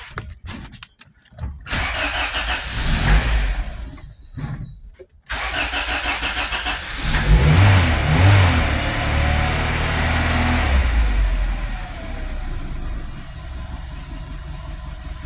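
A car engine cranks in short bursts, stalls, then catches and roars, revving loudly before settling into a steady idle.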